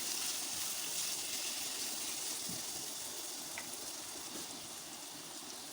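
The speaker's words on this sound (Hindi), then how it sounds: "थोड़ा सा पानी हम इसमें ऐड कर लेंगे" Water poured into a cooking tomato and onion masala in a pan makes a steady, hissing sizzle that fades slightly over several seconds, close and continuous with no speech.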